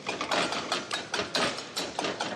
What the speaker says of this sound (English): use the base of the whisk just to stamp down on the butter